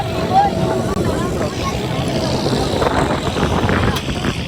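Motorbike ride in the Dubai desert, a steady engine drone with rushing wind noise heard up close, and voices faintly mixed in underneath.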